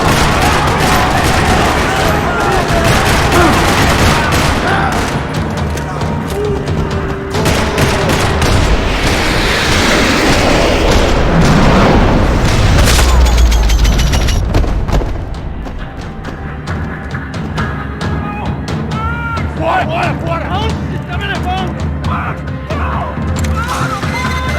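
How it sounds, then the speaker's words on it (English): Gunfire rattles through a parking lot in the video game Max Payne 3, with dense bursts of automatic shots, crashes and impacts, loud and sustained before thinning to scattered shots and debris. "Another parking lot rattling with gunfire."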